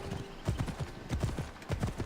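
A horse's hooves clip-clop at a steady galloping rhythm while being ridden in the video game Assassin's Creed Odyssey, repeated rapid groups of hoofbeats that sound close and clear, with faint background game ambience.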